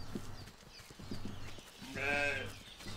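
A single sheep bleats in the video game Force of Nature, a clear wavering cry rising near the end over a steady low game hum, with faint soft thuds earlier.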